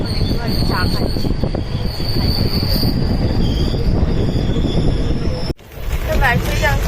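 Teesta Torsha Express pulling out of Barsoi junction, with a loud continuous metallic wheel squeal and rumbling carriages heard from inside the train, briefly interrupted near the end before the rolling noise resumes.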